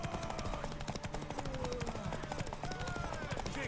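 Horse hooves clip-clop in a steady rapid rhythm during a race in The Witcher 3: Wild Hunt, loud and close, with speech and game sounds layered over them.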